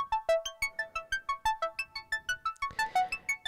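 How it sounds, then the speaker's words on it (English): A bit-depth-reduced melodic sequence run through a bitcrusher effect in Cubasis 3: a quick, even run of short gritty synth notes about seven per second, bright and buzzy, with no voices. "You can hear the difference between the bit depths."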